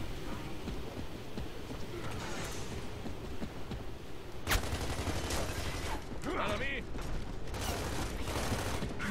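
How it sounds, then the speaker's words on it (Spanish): Rapid, sustained gunfire rattles through a Gears of War 3 match, dense bursts with a sharp loud crack near the middle, continuing at close range throughout. "¿Cuántos putos tiros?"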